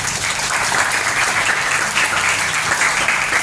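A large audience of students at a school leadership training session claps loudly and continuously, a thick, even wash of applause with a low murmur beneath.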